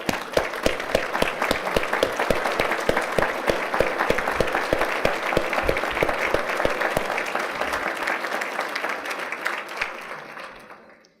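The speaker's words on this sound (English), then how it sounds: "Please stand and let's applaud their service" A standing audience at a community event applauds for over ten seconds, dense and fairly loud clapping with a few distinct sharp claps, tapering off and fading out near the end.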